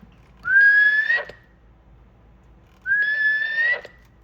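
Two separate whistles, each rising and about a second long, come through a RoadKing RKCB CB radio, clear and loud with a short quiet gap between them.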